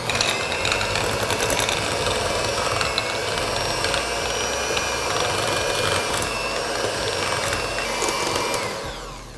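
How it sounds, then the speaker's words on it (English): Electric hand mixer whipping cooked potatoes into mashed potatoes, a steady loud motor whir with beaters rattling in the bowl, running continuously and trailing off at the end. "so let's go with the hand mixer."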